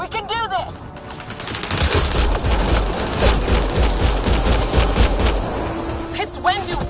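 Continuous video game gunfire in Mass Effect Andromeda, loud and near, rattling on for several seconds under layered combat noise, with voices shouting at the start and near the end.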